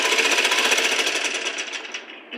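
A sewing machine stitching invisible piping on cloth, running at a fast, steady rhythmic chatter up close, slowing and easing off slightly at the end.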